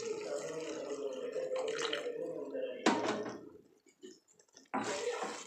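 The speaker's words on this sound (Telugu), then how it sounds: "ఇప్పుడు కొన్ని వాటర్ పోసుకోవాలి." Water is poured into a pan of mushroom curry with coconut powder, a close splashing gush that pauses briefly and then resumes.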